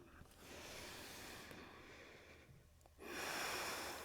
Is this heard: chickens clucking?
no